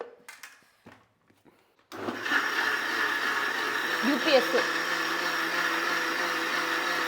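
A kitchen mixer grinds masala into a fine paste, starting after a short pause with a loud, steady motor whir that carries on continuously, close by, with a brief voice under it.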